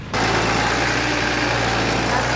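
A tractor towing a tank trailer of pig manure drives out of a farm toward a field: a loud, close, steady low engine rumble with no break or voices.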